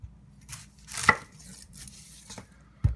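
A kitchen knife slices the end off an onion on a cutting board, giving a few sparse, close chopping knocks with a sharper thud near the end.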